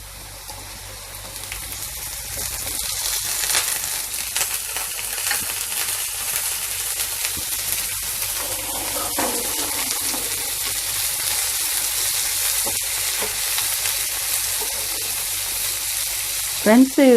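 Prawns sizzle and fry in a pan with onions, a loud, steady crackling hiss that runs throughout with occasional stirring noises.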